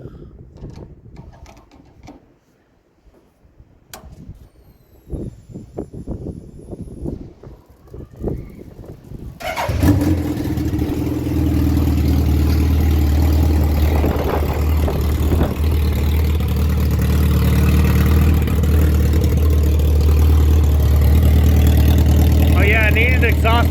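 A Hayabusa 1300cc engine swapped into a mini buggy: scattered clicks and handling noises with someone talking, then the engine catches and runs at a loud, steady idle, rough and close, for the rest of the clip.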